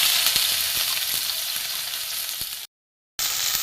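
Thinly sliced bitter gourd fries in hot oil in a kadai, giving a steady bright sizzle and hiss that cuts out briefly near the end, then resumes.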